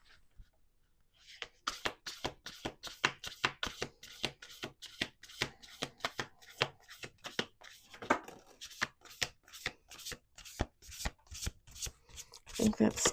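Playing cards riffle-shuffled up close, a rapid run of crisp flutters and snaps that repeats steadily for several seconds after a brief quiet start.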